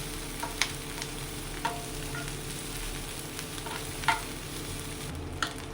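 Small chopped onion frying in heated oil, a soft steady sizzle with occasional light stirring clicks, fairly quiet, with no talk.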